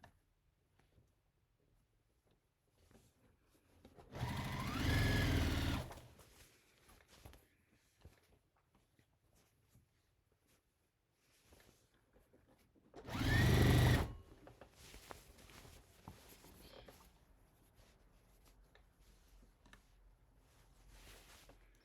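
A sewing machine stitches a criss cross apron in two loud, steady bursts of a few seconds each, separated by quieter handling of the fabric.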